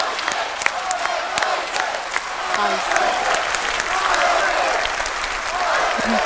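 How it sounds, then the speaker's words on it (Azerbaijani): Loud studio audience applause on a televised Azerbaijani singing contest stage, dense sustained clapping with some cheering, continuous for several seconds. "Elə gürültülü alqışlarla da yola salaq."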